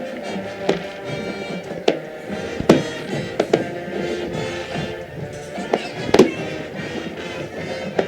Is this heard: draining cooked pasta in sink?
no